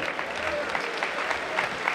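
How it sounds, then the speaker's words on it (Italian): Spectators at a football club's season presentation at a castle in Cosenza applaud steadily, with thick, continuous clapping from a crowd throughout the short stretch. "Un applauso per tutti loro."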